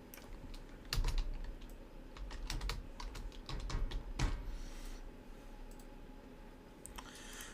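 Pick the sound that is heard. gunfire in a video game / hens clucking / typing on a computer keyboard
typing on a computer keyboard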